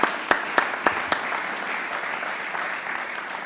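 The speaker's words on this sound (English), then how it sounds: "I think you deserve a round of applause" Audience applause closing a conference session, a few sharp individual claps at the start giving way to a steady patter of clapping from a moderate crowd in a hall.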